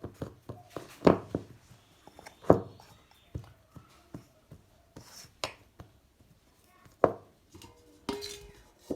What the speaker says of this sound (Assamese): এটা প্লেটেৰে ঢাকি পেলাই থৈ দিছোঁ।